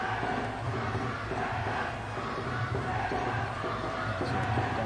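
Thai supporters at a sepak takraw match against Vietnam, a dense, steady roar of crowd cheering and chanting from a distance, filling the whole stretch evenly with a faint commentator voice underneath.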